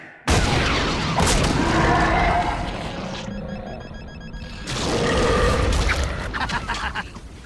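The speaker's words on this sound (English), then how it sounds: "Smart bombs. They really pack a punch." Smart bombs exploding in a Transformers cartoon battle: a sudden loud blast followed by sustained rumbling explosions, a brief lull, then another heavy burst of detonations.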